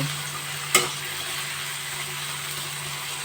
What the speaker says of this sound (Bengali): আলুগুলো এক মিনিট নাড়াচাড়া করে নেব